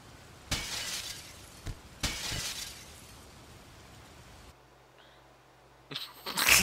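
Two sharp crashes of glass windows shattering in the video game Gunpoint, each trailing into a tinkling spray of fragments, followed by a quieter lull and a final louder burst.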